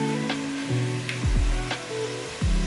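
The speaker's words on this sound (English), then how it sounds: "So the bacon in the pot for the cabbage is simmering." Bacon simmering in a pot as the base for cabbage, giving a steady low sizzle throughout with a few short scraping stirs, close and fairly loud, no talking.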